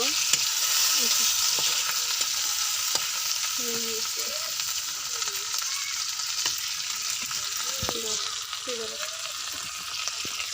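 Dried fish (shutki) frying in a pan, a constant crackling sizzle throughout with faint chirping sounds in the background.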